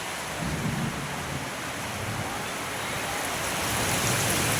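Deep thunder rumbles through a steady roar of heavy rain during a rainstorm, swelling in the first half, alone with no talk.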